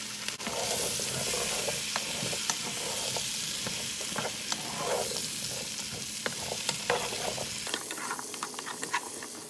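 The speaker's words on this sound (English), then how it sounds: "Then I'm just going to throw in all the veggies and let them saute in the butter for a while." Chopped vegetables sauté in sizzling grass-fed butter, a steady, close frying hiss with scattered clicks and scrapes of stirring throughout.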